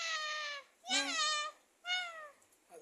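A child imitates a cat with three separate meows in a row, each rising then falling, fairly quiet with short pauses between.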